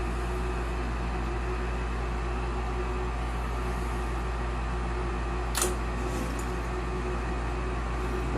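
An Olsen furnace inducer fan runs with a loud steady hum and broadband whoosh, and midway a brief sharp burst marks the burner igniting, then the drone continues without talking.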